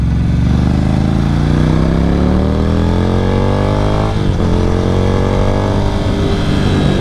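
A Ducati Scrambler or Honda CB650R motorcycle engine revving up through the gears, a loud close roar that rises in pitch, drops at a shift, then climbs again.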